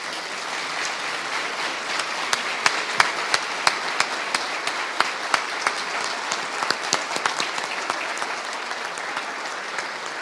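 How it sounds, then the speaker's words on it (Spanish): A standing audience at a geopolitics lecture applauds Colonel Pedro Baños, a steady wash of clapping from many hands with distinct sharper claps poking through, sustained and fairly loud for about ten seconds. "hacer que ustedes se pongan de pie de nuevo a darle un aplauso al coronel Baños"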